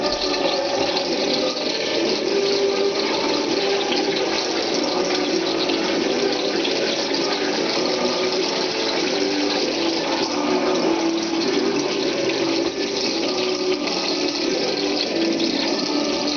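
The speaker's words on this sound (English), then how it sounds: "2½ cups of water." Water, two and a half cups, poured steadily for Dutch apple fritter dough, a continuous gushing, splashing rush like a running tap that holds loud and even throughout with no talk.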